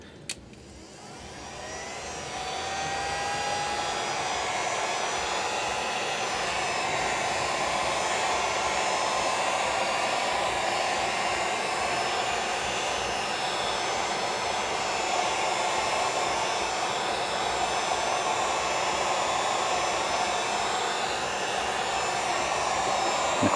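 A heat gun on its low setting warms the aluminum front cover of a Pioneer SX-750 receiver, with a click as it switches on, then a steady, close, airy whooshing drone.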